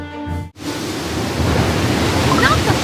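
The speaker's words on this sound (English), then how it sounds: "The waves! It's as if they've come alive!" Ocean waves in the Cookie Run Kingdom video game crash as a broad, steady roaring wash that swells and fills the scene after a brief musical tone cuts off.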